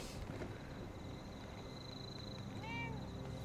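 A cat in the game Fallout 76 gives a faint, short meow near the end, over a steady low ambient hum and scattered quiet background noise.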